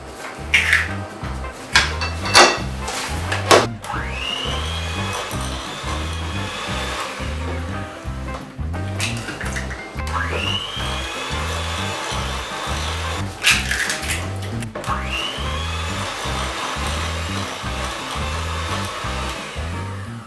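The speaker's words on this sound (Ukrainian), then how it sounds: "І продовжую все перемішувати міксером" An electric hand mixer beating red velvet cake batter in a bowl, a steady whirring motor with rhythmic pulsing as the beaters churn, occasional clicks and scrapes against the bowl, close and continuous with no talking.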